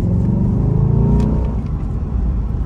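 A new Chevrolet Corvette's engine rumbles loud and close with a deep, steady low drone, easing off slightly toward the end.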